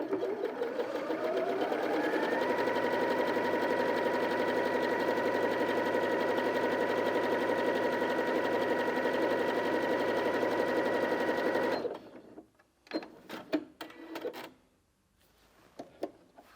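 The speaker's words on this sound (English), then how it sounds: "let's take a look at the zigzag stitch" A Janome Sewist 780DC sewing machine running a zigzag stitch, a close, steady rapid whir that speeds up at the start and runs continuously, then stops abruptly into a few light clicks and handling sounds.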